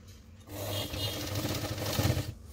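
A sewing machine runs steadily, stitching the folded edge of a langa davani dress, with a close, continuous mechanical whirr and rattle between brief pauses at the start and end.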